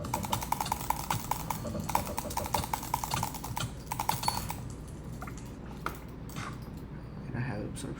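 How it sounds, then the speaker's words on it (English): Rapid mouse clicking during a Minecraft session, a dense run of sharp taps through the first half that grows sparser and quieter later, with continuous talking over it. "hopefully my clicking sounds aren't too abrasive"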